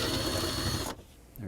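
A power tool whirs loudly as 10mm bolts are removed from the kick panel of a Chevrolet Express van, then cuts off abruptly into near silence before a brief restart.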